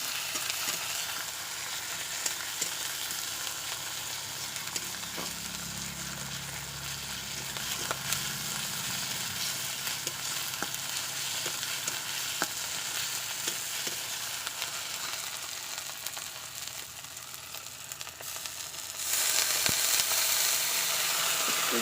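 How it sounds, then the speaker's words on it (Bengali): Ginger paste and onions are stirred as they fry in a pan for semul tagra chol: a soft, constant sizzle with occasional scraping ticks of the spoon, close and without speech. "আদাটাকে ভালো করে পেঁয়াজের সঙ্গে নেড়ে চেড়ে নেব।"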